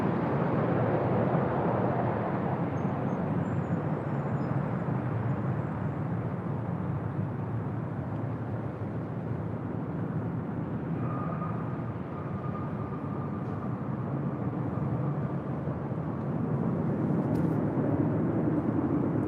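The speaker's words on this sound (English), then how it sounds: "That was Delta Airlines flight 2975 coming in from Portland, Oregon on the 737-800" A Delta Air Lines Boeing 737-800 arriving at LAX from Portland gives off a broad steady jet roar that holds loud and even throughout, with no talking.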